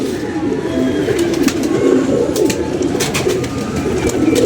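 Pigeons coo in low, repeated throaty calls close by, layered over a constant outdoor background.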